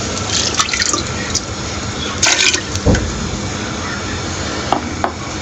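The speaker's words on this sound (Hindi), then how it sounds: "हमने पानी डाल दिया, तो पानी के साथ हम डाल रहे हैं, इस दाल को शामिल करेंगे।" Water splashes and drips into a cooking pot holding toor dal (arhar lentils), a close, wet pouring sound with scattered drops and small splashes throughout, no talking.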